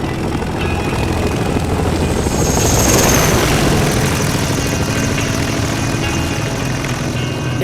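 A 1950s tandem-rotor helicopter, the Flying Banana, roars overhead in a loud, continuous wash of rotor thump and engine noise that swells slightly midway and stays dense throughout.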